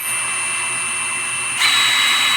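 An Ingco 20-volt cordless impact wrench whirs steadily on its high mode with a high-pitched motor whine, then jumps to a louder, harsher pitch partway through, close and alone.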